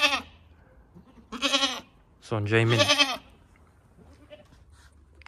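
Goats and young kids bleat in several loud, close, wavering calls with brief pauses between, while a kid suckles; a person speaks briefly among the calls.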